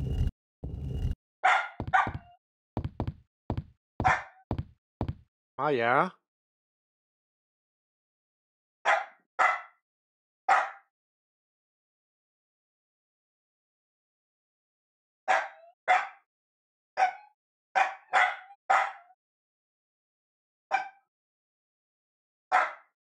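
Dog barking in repeated short bursts, loud and close at first, then in scattered clusters of sharp barks after pauses, with a brief spoken remark early on.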